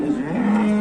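A cow in a livestock yard lets out one steady, loud moo, close by, with no talk over it.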